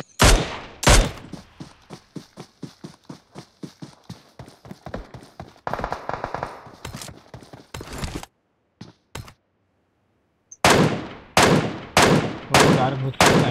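Tap-fired shots in a PUBG Mobile custom match: a long run of evenly spaced sharp reports, a burst of heavier fire, a short silent gap, then rapid clustered shots with ringing tails.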